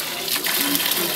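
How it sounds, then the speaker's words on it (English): A water tap at a school in Katende, Mpigi runs steadily for a second, a close, hissing gush of flowing water that swells slightly partway through. "This is a tap that provides very pure water, healthy and ready to drink."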